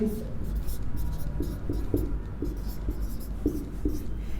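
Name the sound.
writing on paper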